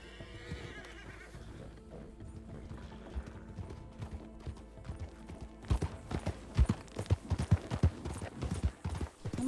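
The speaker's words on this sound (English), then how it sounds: "Oh my goodness. Stop, horse." Horse hooves clip-clopping in the RedM (Red Dead) role-play game, with a whinny early on, then louder, closer hoofbeats in an uneven trotting rhythm in the second half.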